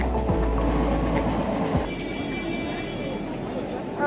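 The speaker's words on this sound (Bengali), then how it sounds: "এখন বাজে 6:14, ট্রেন ছাড়লো স্টেশন থেকে।" A local city train pulls out of a station, its steady low rumble and rolling clatter filling the scene, with a brief squeal and shifting mechanical tones as it gets moving.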